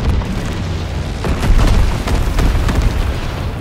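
Incendiary bomber strike explosions roll through a Call of Duty WWII match, a series of heavy booms and bursts that swell in the middle and keep rumbling, loud and close, with no talk.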